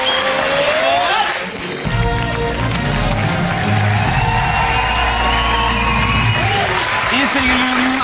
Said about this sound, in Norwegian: En applaus for rødt lag!